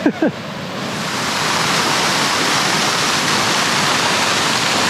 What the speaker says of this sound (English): we're back to the waterfalls at the top